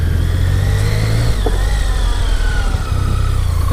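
A BMW K75S motorcycle that sat unused for ten years, its engine droning steady and loud as it clicks into first gear and pulls away, with a brief dip in the note near the end.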